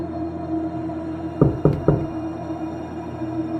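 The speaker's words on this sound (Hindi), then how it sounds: "बिस्तर के नीचे से दस्तक की आवाज आने लगी।" Three sharp knocks from under a bed, a quick close pair followed by a third, rising out of a low steady hum in an otherwise quiet room.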